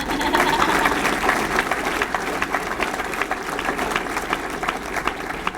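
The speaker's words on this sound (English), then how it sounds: "yeah, sure, you can applaud for them" A political campaign event crowd applauds the campaign organizers, a dense, sustained roar of clapping that holds at an even, fairly loud level throughout, with faint crowd voices mixed in.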